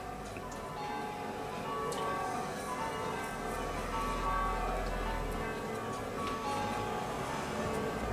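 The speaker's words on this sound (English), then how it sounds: "The bells are really going crazy today." Busy, continuous bell ringing with many overlapping strikes and chimes, steady and moderately loud throughout with no voices, a low rumble swelling briefly midway.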